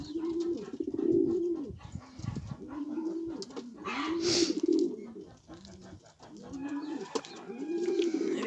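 Pigeons coo steadily in a nest area, low rhythmic calls repeating close by with brief pauses and a faint higher chirp partway through.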